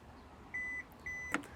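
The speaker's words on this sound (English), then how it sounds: "you've got that double beep and it's gonna lock into that place too." Electronic chime from a 2025 Kia Niro power liftgate confirming a saved opening height: two short steady beeps about half a second apart, clear and moderately loud, followed by a brief click, with no talking.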